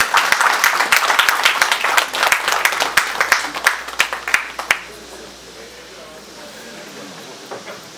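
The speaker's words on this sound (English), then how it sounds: "please give a big round of applause please" An audience in Atlanta gives Engineer Adedoyin Adelekun a round of applause, loud, dense clapping that tapers into a few scattered claps and quiet room noise.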